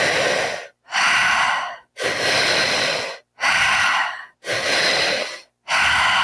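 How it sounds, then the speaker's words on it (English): Slow, deep breathing close to the ear, five long airy breaths in a steady rhythm, each separated by a brief silent pause, with no talking. "we let that exhale be longer than the inhale"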